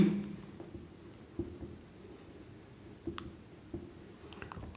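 Pen or marker strokes on paper or a board while working a Class 10 triangles maths problem: faint, intermittent scratchy writing with a few sharper taps. The strokes are moderately close and quiet, with no talking.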